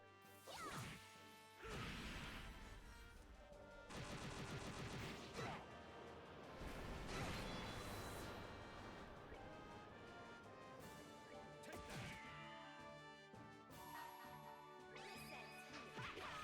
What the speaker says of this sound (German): Riesige Explosion aber auch.